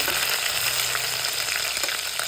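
Ginger and garlic fry in a hot pan with a steady, dense sizzle that holds evenly throughout, with no voices over it.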